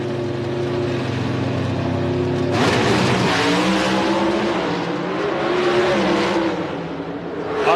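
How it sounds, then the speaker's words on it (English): NHRA drag race cars roar down the track at the 1994 Arizona Nationals, Firebird Raceway, a loud engine drone that bursts into a harsh, full-throated blast partway through and stays intense to the end. "A tremendously close race, and Kurt Johnson prevailed by 100th of a second. Oh boy, what a drag race"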